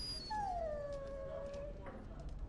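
A dog in a video game lets out a long, drawn-out whimpering whine that slides downward, fairly close and clear over a steady low background hum.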